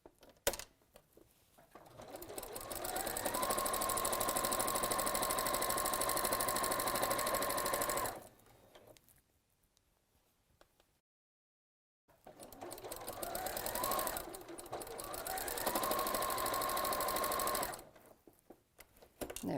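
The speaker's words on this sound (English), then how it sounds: "you're going to sew them around the outside edge with the seams open" Sewing machine stitching a quilt around its outside edge, a steady loud whirring run of several seconds, a pause, then a second long run of stitching, close up with no talk.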